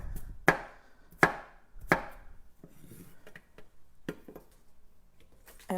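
Celery is chopped with a knife on a cutting board, three sharp crunchy cuts in slow succession followed by softer, scattered slicing and a few lighter knocks, close up with no talk.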